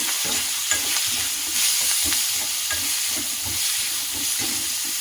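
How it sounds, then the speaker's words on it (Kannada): Onion with curry leaves frying and being stirred in a pan for okra palya: constant crackling sizzle overlaid with repeated low scraping strokes of the spoon, close up, with no talking. "ಒಂದು ದೊಡ್ಡದಾಷ್ಟು ಈರುಳ್ಳಿಯನ್ನು ಹಾಕ್ತಾ ಇದ್ದೀನಿ ಸ್ವಲ್ಪ ಫ್ರೈ ಮಾಡ್ಕೊತಿದ್ದೀನಿ"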